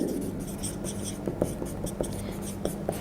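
Pen or chalk writing by hand during a classroom lecture, heard as short scratchy strokes and light taps in an uneven rhythm, fairly close, with faint soft voice sounds underneath.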